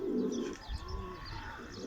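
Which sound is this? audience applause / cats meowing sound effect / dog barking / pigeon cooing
pigeon cooing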